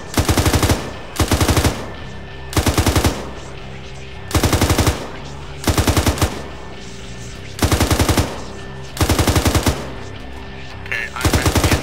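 Automatic rifle fire during a military exercise: loud, close bursts of rapid shots repeating about every second or two, with short quiet gaps between bursts.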